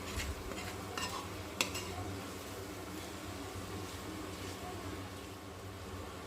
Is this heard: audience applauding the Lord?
no